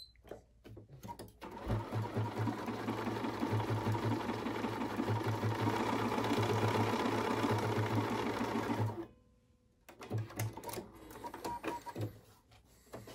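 A Bernina 535 sewing machine stitches a triple blanket stitch in a steady, fast mechanical whir lasting several seconds, then stops briefly before a shorter, lighter burst of stitching resumes.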